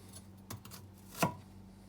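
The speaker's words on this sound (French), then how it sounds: "j'ai découpé mes échalotes" Shallots chopped with a knife on a board, two or three quick close cuts with a sharp knock near the end, over a faint low hum.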